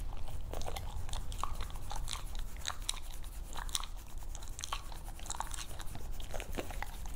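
Steady close-up crunching and chewing as a husky eats crunchy fish, with irregular bursts of crisp bites over low background rumble, no talking.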